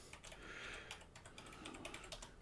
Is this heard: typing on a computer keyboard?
yes